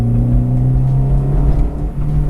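Honda CR-Z hybrid hatchback accelerating, its intake drawing a steady low engine drone with rising harmonics, loud and close, heard alone without talk.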